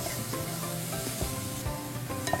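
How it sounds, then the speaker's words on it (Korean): Onions sauté in melted butter in a pan, a close steady sizzle with scraping stirs and a couple of light utensil taps. "양파 넣고 버터랑 같이 좀 볶아주고요"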